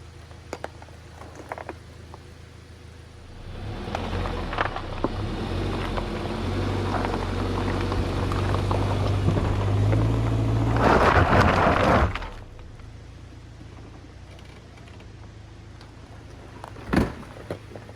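4x4 vehicle trying to climb a steep slope on budget DIY traction recovery boards, its engine rising to a loud, sustained rumbling roar for several seconds before cutting off abruptly, followed by a brief sharp knock.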